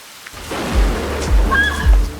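Rain falls steadily while three deep rumbles of thunder roll in at regular intervals, fairly close and heavy.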